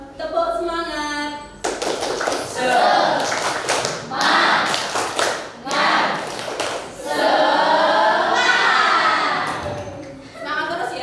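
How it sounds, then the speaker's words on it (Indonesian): A school class does a rhythmic spirit clap in unison, sharp bursts of patterned clapping and tapping that rise and fall over about ten seconds, mixed with students' voices. "Tepuk semangat."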